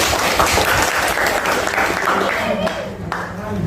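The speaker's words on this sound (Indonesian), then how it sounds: "kasih tepuk tangan dulu Sejati" Classroom applause for a student, a burst of clapping from pupils that fills the room continuously and fairly loudly, with voices mixed in beneath it.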